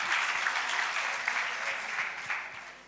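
Audience applause at a Catalan-language talk on LGBTI policy, a steady dense clapping that holds for about three seconds at moderate level with no voices over it.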